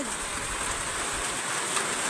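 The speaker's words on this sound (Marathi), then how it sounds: "आलं पाणी लय जोरात लय मोठे मोठे थेंब आले होते" Heavy rain with large drops falls in a farm field near a hut, a steady dense hiss of downpour filling the whole clip at close range with no voices.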